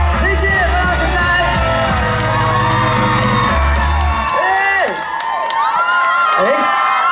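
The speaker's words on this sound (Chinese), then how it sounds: "2000多人的尖叫声不止这样子哦" A crowd of more than 2000 people screams, whoops and cheers at an outdoor harvest-festival concert, loud and continuous throughout with shouts rising over the din.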